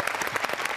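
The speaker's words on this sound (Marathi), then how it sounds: "आपण जोरदार टाळ्या वाजून त्यांचं स्वागत करूया." Audience applause greets a guest at a Marathi comedy show, a dense burst of clapping heard up close with no speech over it.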